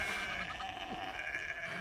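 Sheep in a field bleat softly among the flock, a faint wavering call heard against steady outdoor noise without any talk.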